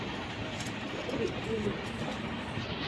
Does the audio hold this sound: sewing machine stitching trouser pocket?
no